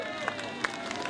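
A crowd at the Foulées des Laveuses 2012 road race finish applauds a runner, with steady clapping and crowd noise continuing throughout, a few sharper claps standing out.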